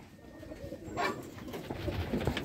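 A large male Lahori pigeon gives a soft, low coo that swells briefly near the middle and then rises again in fainter murmurs, quiet and close.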